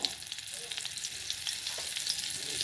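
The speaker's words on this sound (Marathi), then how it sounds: "एक चमचाभर बटर आहे ते टाकूया फोडणीला" A spoonful of butter sizzles in a small tempering pan for aloo matar, a soft continuous crackle with tiny pops scattered through it, fairly quiet and without speech.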